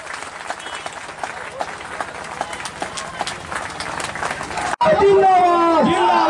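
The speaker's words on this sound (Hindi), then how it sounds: "ताली बजा कर स्वागत" Crowd applause welcomes guests at a public event in Darbhanga, loud steady clapping with chatter, then a sudden cut to a louder, busier passage of voices and crowd noise.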